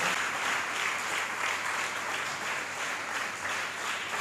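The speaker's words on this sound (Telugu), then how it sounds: "గట్టిగా చప్పట్లు కొడదాం ఒకసారి" A church congregation claps loudly together at a Telugu worship service: dense, sustained applause that fills the room evenly for several seconds with no pauses and no voices on top.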